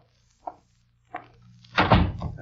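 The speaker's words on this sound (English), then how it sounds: "I will close the door." A door in an old-time radio crime drama pushed shut, two light knocks followed by a heavier closing thud and brief rattle, close and clear against quiet.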